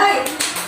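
A few quick, sharp hand claps from a school class in a short rhythmic burst, close and fairly loud.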